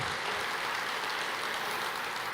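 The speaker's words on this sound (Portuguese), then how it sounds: "Aplauda o Senhor." Church congregation applauding during a worship service, a dense, steady wash of clapping that fills the whole moment without pause.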